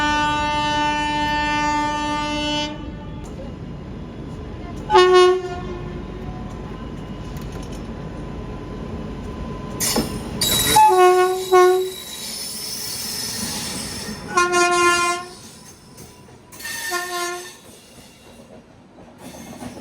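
The Central Railway Rajdhani Express rushes past with a steady roar and rattle of wheels, its horn blaring loudly several times, squealing and clattering as it goes by.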